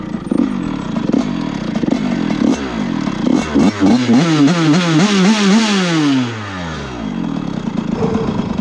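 Motorcycle engine with its idle speed turned down and a piston ring that may be rubbing, running alone and loud. It revs up unevenly, then the revs fall off in a long sweeping descent and it settles into a low, uneven idle that sounds close to stalling.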